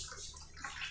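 Hot water pours steadily into a bowl of melon seeds with two cardamom pods, a soft continuous splashing and gurgling stream, close and quiet.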